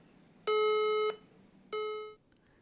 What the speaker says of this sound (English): This tone is an alert.